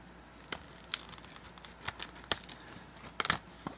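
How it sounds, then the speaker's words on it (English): Several short, sharp scissor snips and crinkles of plastic packaging on Magic: The Gathering cards, spaced irregularly, close by and fairly quiet with no talking. "Good thing I got me some scissors."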